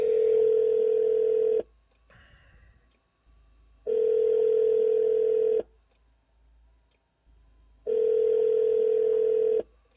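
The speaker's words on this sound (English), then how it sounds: "So dialing the phone." An outgoing call rings unanswered in the Shadows of Doubt video game: three evenly spaced, loud ringback tones, each lasting under two seconds and separated by longer silences.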